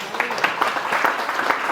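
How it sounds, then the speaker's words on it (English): A crowd claps and applauds a retired Marine, brisk dense clapping from many hands filling the short burst at close range. "Let's give Danny a big round of applause for his services to this country"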